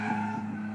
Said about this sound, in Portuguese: Mano, é muito bonito de ver esse carro fazendo drift.